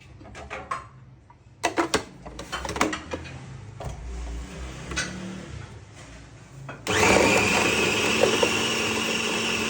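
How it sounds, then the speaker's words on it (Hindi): An electric chopper whirs loudly and steadily as it minces cubes of raw chicken, starting abruptly after a stretch of quiet clicks and kitchen handling noises. "सबसे पहले हम चॉपर लेंगे, इसमें चिकन के जो क्यूब्स हमने किए थे इनको डाल लेंगे और इनको चॉप कर लेंगे"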